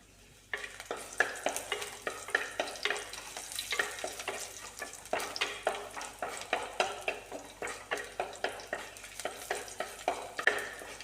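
Crushed garlic and curry leaves frying in hot oil for a brinjal thoran, with a constant sizzle under repeated rhythmic scrapes and stirs of a spoon against the pan, close and fairly loud.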